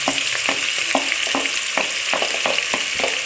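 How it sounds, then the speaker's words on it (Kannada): Onions frying in a pan for chicken biryani, a loud, dense sizzle with a regular series of scraping stirs roughly every half second, close up and with no talking. "ಈರುಳ್ಳಿನ ಚೆನ್ನಾಗಿ ಫ್ರೈ ಆಗೋ ಥರ ಮಾಡಬೇಕು"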